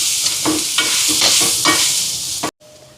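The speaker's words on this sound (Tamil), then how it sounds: "மாசி கருவாடு போடுவோம். கட்டத்தூள் கலந்து விடுவோம்." Dried Maldive fish and chili powder being stirred into a frying pan, with steady loud sizzling and repeated scraping stirs for about two and a half seconds before an abrupt cut to quiet.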